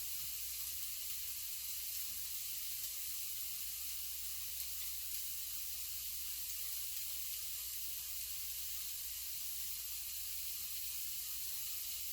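Onions frying with turmeric, jeera and red chili powder in a pan give a steady, continuous sizzle that stays even and close throughout, with no voices.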